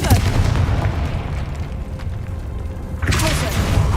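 A Confringo blasting spell explodes in Hogwarts Legacy with a loud burst, then a second sharp blast about three seconds later, over steady rumbling game noise.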